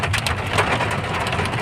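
Heavy rain with hail pours down steadily in Solan, Himachal Pradesh, India, a dense, loud, unbroken hiss with faint patters of hailstones striking surfaces throughout.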